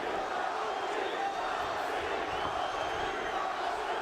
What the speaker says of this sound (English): The partisan crowd erupting with chants of Cung Lee